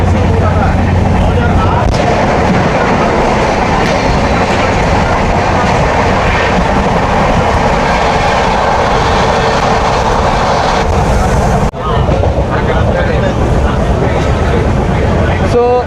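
The Godavari Express, running between Hyderabad and Visakhapatnam, roars along the rails with loud, continuous rumble and rattling, heard from inside the moving train and steady for the whole stretch.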